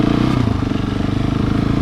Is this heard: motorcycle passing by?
yes